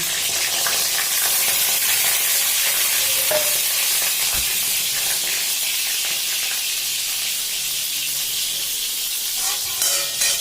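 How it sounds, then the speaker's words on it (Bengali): Pointed gourd (potol) frying in hot oil gives a loud, dense, unbroken sizzle heard up close, with one brief knock partway through. "আমি এখন তেলের ভিতরে পটল দিয়ে দিচ্ছি।"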